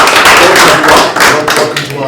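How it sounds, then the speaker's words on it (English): Room applause for the host at an evening gathering at an organisation's HQ, a loud close burst of clapping from a modest crowd that swells and dips, with voices mixed in. "A round of applause from the room."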